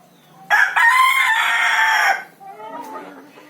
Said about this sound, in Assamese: চাওক মুৰ্গীবোৰে চাউল খাই আছে